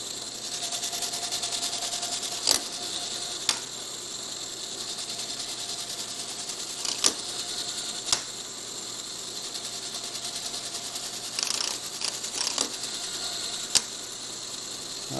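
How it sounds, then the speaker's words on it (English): An automatic tap head cuts threads into holes in metal parts for a grinding fixture, giving a steady whirring machine drone with sharp clicks at irregular intervals and no talking. "Love this automatic tap head. It makes short work out of projects like this"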